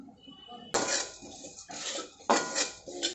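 Grated coconut is roasted and stirred in a pan for sunthvada modak, with two sharp bursts of a utensil scraping against the pan and quieter stretches between them.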